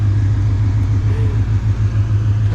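A car idles through a new exhaust where a single pipe feeds a dual tip, giving a loud, steady low rumble with an even pulsing beat and no talking.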